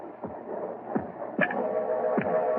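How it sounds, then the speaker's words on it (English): Slow, deep heartbeat thuds repeat about every second, muffled and throbbing over a low steady hum. "And that noise you hear is his heart."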